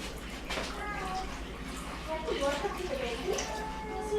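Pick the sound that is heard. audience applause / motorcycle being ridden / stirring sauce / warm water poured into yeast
warm water poured into yeast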